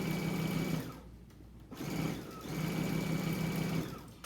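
Sewing machine stitching along the bottom of a fabric craft bag, two bursts of steady whirring hum separated by a short pause, close and fairly quiet.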